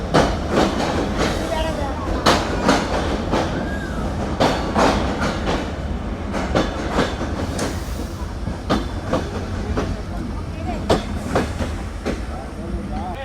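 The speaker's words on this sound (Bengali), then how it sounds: "আমাদের ট্রেন ছাড়লো নোয়াপাড়া থেকে।" The Sagardari Express passenger train runs nonstop toward Khulna, heard from inside as a loud, continuous rumble with repeated rhythmic clickety-clack of wheels over rail joints.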